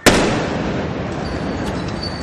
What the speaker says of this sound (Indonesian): tim penjinak bom polisi berupaya menjinakkan sebuah bom dalam tas ransel yang akhirnya meledak